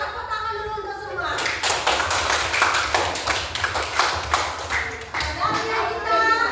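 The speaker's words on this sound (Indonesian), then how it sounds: "Tepuk tangan dulu untuk semua." A class of children claps together in a loud, uneven round of applause that begins after a brief spoken line and continues for several seconds, with scattered voices under the clapping.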